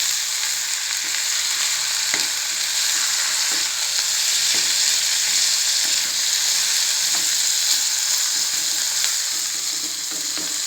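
Manathakkali (black nightshade) greens sauté in a hot pan with a loud, continuous sizzle and crackle, broken by regular scraping strokes of a spatula, close up and with no talking.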